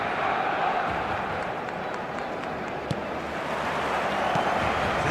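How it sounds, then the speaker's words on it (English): A full stadium crowd in the eFootball video game roars as a constant, dense wash of noise with no letup, with one brief thump partway through. "The stadium is full of noise and energy."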